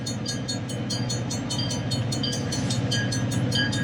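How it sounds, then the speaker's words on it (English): A freight train locomotive rolls past close by on a line near an industrial park, a loud steady low rumble with rhythmic clanking and metallic squeals over about four seconds, no talking. "So here goes the first locomotive."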